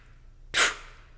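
A single short, breathy burst of air is blown as a wind pattern for a short trumpet note, one soft rushing puff that fades quickly against near silence.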